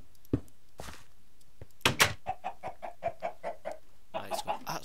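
Minecraft chicken in Tekkit clucking near at hand as a string of short, evenly spaced clucks, with a few bumps and a door-like knock before them.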